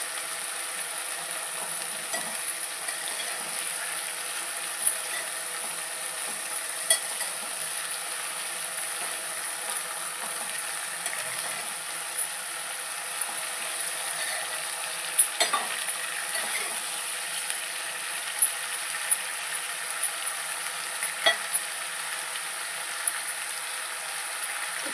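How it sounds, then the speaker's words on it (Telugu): Broad beans and tomato stirred in a pan, giving a steady soft sizzle with occasional scraping knocks of the spoon, close and moderately quiet, no voices. "చిక్కుడుకాయ వేసుకున్నాక బాగా కలపాలి."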